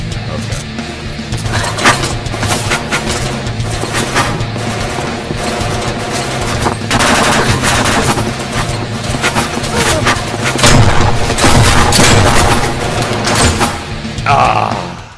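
Rapid bursts of machine gun fire in a horror video game, loud and dense over a constant game soundscape, with a player talking at times.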